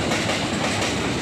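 A real train rolls along railway tracks at close range, a steady loud clatter of wagons and wheels filling the whole span with no voices.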